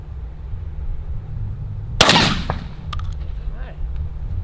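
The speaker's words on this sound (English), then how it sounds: "Last but not least, heavy 12 with the TSS Rob Roberts choke." A single heavy 12-gauge shotgun blast through a TSS Rob Roberts choke at a pattern test, one sharp loud report with a short outdoor echo, followed by faint clicks and low background rumble.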